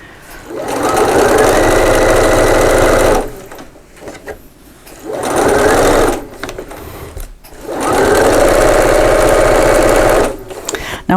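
Sewing machine stitching a straight seam on a bag lining, three loud, steady whirring bursts of a few seconds each with brief pauses between them, and a voice speaking in the gaps.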